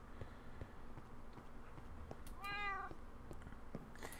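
A cat lets out one clear, drawn-out meow partway through, faint and quiet, amid soft scattered taps and shuffling, with no voices.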